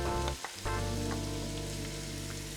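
Capsicum and onion frying gently in a pan, a steady soft sizzle that continues throughout after a brief dip at the start, close and fairly quiet, with no talk.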